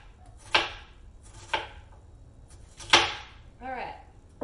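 Three sharp knife strokes slicing through food on a cutting board, clear and close, followed by a brief rising vocal exclamation.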